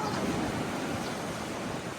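Sea waves at a beach resort, a constant broad roar of surf with some wind rush, fairly loud and steady with no distinct breaks and no voices.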